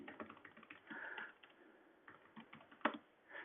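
A computer keyboard is typed on in short irregular bursts of soft clicky keystrokes, close and quiet, with one sharper key strike near the end.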